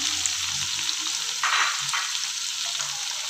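Masala spices and tomatoes frying in a pan give a steady, close sizzle, with a few brief stirring scrapes and soft bumps breaking through the continuous hiss.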